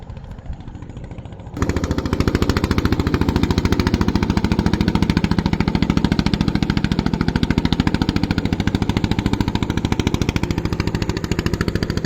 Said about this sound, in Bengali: দেখছেন শীতের ভিতর কিভাবে সে ট্রলারটা চালাইতেছে